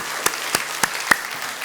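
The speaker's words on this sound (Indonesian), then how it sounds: "Saya dong berikan tepuk tangan untuk Tuhan Yesus." A church congregation at a Sunday service gives a short, sparse burst of applause, a few distinct claps standing out over a steady room hiss.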